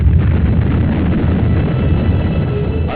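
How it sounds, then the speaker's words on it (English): Missile detonating against a MiG fighter jet at about 1,200 mph, a loud sustained roaring rumble heavy in the low end that fills the whole stretch without pause. "So you can imagine what the explosion was like."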